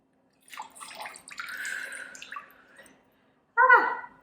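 Cold water drips and splashes from a face just lifted out of a cold immersion bath, a close burst of trickling and spattering followed by a pause and one brief louder splash.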